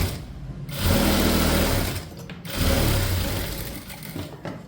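A sewing machine stitches an armhole seam about a quarter inch from the edge, running loud and steady in two bursts with a brief slowdown between them.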